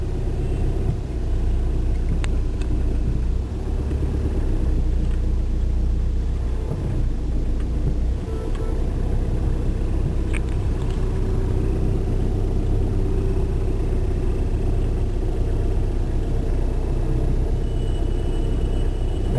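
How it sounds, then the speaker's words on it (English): Traffic in a market area crowded with hotels, shops and banks, heard from inside a vehicle stuck in parking traffic as a steady low engine and road rumble with a few faint clicks and knocks. "stuck in the parking traffic"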